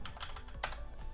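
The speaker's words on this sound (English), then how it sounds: "And now we're going to type in add -appx package -path." Rapid keystrokes on a PC computer keyboard, a quick irregular run of close, crisp clicks with one sharper tap partway through, alone with no talk.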